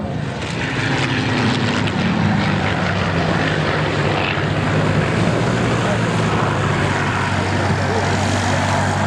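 A loud, continuous propeller engine roar from a Yak-3 fighter flying fast and low at an air show at La Ferté, a steady close drone with a commentator talking over it.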